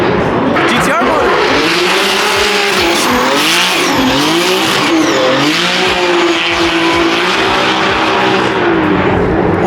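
Nissan GTR drift cars at a Formula Drift street event in Long Beach, loud engines revving and rising in pitch with sustained tire squeal, heard close under crowd noise and talking throughout.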